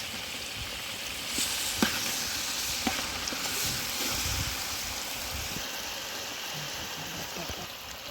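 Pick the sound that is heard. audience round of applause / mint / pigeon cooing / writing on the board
mint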